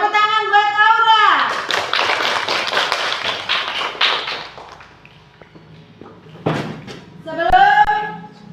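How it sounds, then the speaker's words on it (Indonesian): A school class gives a short burst of clapping for a student named Aura, mixed with children's voices, after a teacher speaks; the clapping fades and a voice resumes at the end. "Tepuk tangan buat Aura."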